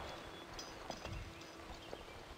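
Horse hooves clip-clop in Barbie Horse Adventures: Riding Camp, a few quiet, uneven hoofbeats over a faint steady background hum, with no talking.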